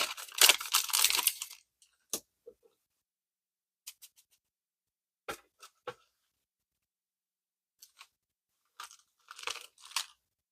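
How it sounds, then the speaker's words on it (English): Cardboard from a food box crunches and crinkles as it is handled, starting with a sustained rustle, then scattered sharp crackles and taps with pauses of near silence. "Oh, I can hear the crunch."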